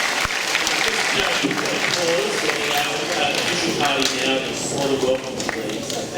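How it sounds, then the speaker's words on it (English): An audience claps at a school assembly, sustained dense applause with some individual sharp claps standing out, while a voice speaks over it partway through. "Get that applause going."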